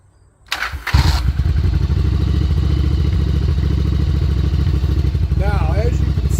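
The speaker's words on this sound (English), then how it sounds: "What I'm going to do is I'm going to start the bike. I'm going to let it warm up." A Yamaha Virago 750 chopper motorcycle engine cranks and catches, then settles into a steady, loud, throbbing idle; a brief whistle-like chirp rises near the end.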